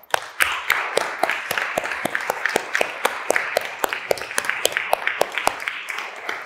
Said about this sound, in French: Et on s'applaudit.